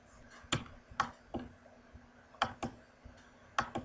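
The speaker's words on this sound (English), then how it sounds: "And I can do single clicks." Computer mouse clicks: sharp, distinct single taps spaced irregularly, several in a row, close and quiet against a faint steady hum.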